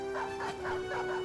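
A war dog in the Battle Brothers video game gives a short run of yelping, whimpering barks, rising and falling several times in quick succession against a steady electronic tone.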